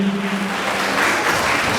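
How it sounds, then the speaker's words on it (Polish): Steady applause from a crowd, a dense wash of clapping that holds at a fairly even level throughout the short stretch. "Oklaski."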